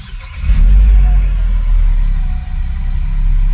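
2001 Mercedes SLK 170 engine runs steadily with a loud, low rumble throughout, nearby and continuous with no voices, while the car sits after a cold start with a fault warning.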